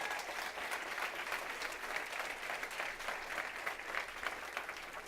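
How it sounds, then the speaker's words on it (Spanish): A church congregation claps steadily, a dense, sustained round of applause from many people heard at a moderate distance, with no talking over it. "dale bien fuerte ese aplauso entonces al Señor"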